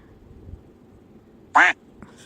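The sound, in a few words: goose honking in the video game Ouchy Bird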